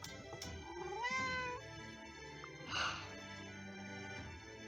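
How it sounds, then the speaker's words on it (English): Pet cat meowing nearby, a drawn-out rising and falling meow followed by a shorter second call, fairly faint against a quiet indoor background. "I need to go deal with my cat."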